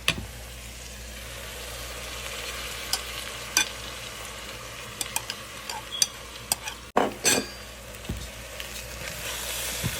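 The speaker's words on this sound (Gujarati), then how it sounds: "પહેલાં સારી રીતે મિક્સ કરીશું આપણે એને." A spoon scrapes and stirs khichdi mix with masala in a sizzling pan, a steady frying hiss under repeated sharp clinks and scrapes against the metal, with one louder knock partway through and no talking.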